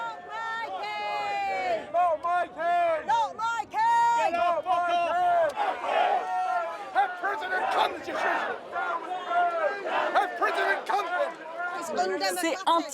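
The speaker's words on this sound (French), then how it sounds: "Ces huées républicaines ont surtout le don de perturber le légendaire sang-froid britannique." Republican protesters against the British monarchy shout and boo as a loud, dense crowd, with many voices overlapping in continuous chanting and jeering.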